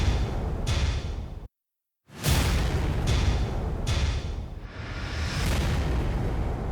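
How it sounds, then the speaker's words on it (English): Layered impact and explosion effects in a rock song mix hit as dense, loud booming bursts with rising swooshes, with one abrupt full stop before the mix slams back in. "I have a ton of impacts, explosion sounds,"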